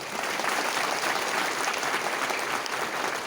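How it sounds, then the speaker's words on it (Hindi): A crowd gives dense, sustained applause at a hospital inauguration in Tripura, loud and even from start to finish with no voices breaking through. "प्लीज इनके लिए बहुत बड़ा ताली दीजिए।"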